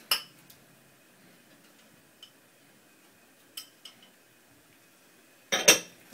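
A utensil stirs shredded sharp cheddar and Gruyere in a bowl, giving a few sparse, light clinks and taps against the dish with quiet stretches between them and one louder clatter near the end.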